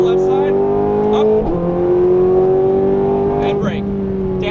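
A Ferrari 430 Scuderia engine at full throttle howls loudly from inside the car, pitch climbing steadily with a couple of brief dips at gear changes, as a voice talks over it.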